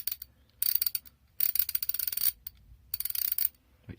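A vintage made-in-England ratchet clicking close up, three short runs of rapid crisp metallic clicks separated by brief silences.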